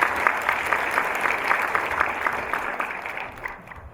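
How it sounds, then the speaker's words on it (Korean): Applause from the audience at a Korean lecture-concert talk event, a steady dense crackle of clapping that holds strong and then thins and fades toward the end, with no voices over it. "여러분 다시 한번 뜨거운 박수 부탁드리겠습니다"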